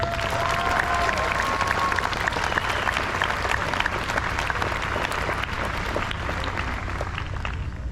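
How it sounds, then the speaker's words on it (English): Sustained applause from a large crowd at a middle school 8th grade promotion ceremony, steady dense clapping that fills the space for several seconds without pause. "would you join me in a round of applause for our 8th graders this morning?"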